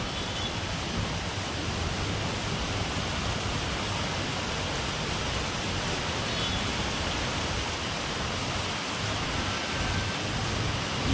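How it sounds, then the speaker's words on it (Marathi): Heavy monsoon rain pours over Konkan Nagar in Ratnagiri, Maharashtra, a dense, steady roar that stays loud and unbroken throughout, with no voices. "बघू शकता तुम्ही किती पाऊस आहे रत्नागिरीमध्ये."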